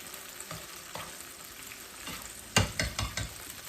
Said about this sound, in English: smell that garlic. Ooh, ooh, ooh. Okay, I'm gonna add ackee.